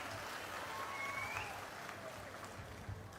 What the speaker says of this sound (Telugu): బాగున్నాయంటే చప్పట్లు కూడా చెప్పండి బాగున్నాయని